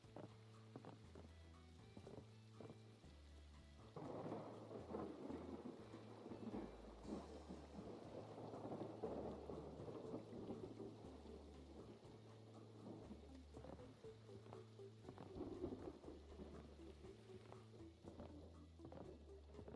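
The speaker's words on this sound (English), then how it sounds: "Can I stop hearing the rain?" Steady rain patters throughout while deep thunder rumbles roll in, over a low repeating music loop in the background, in the video game Hytale.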